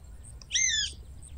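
A single bird call rings out in a forest, a short clear squawking note with a slight downward sweep, heard alone over a low background rumble.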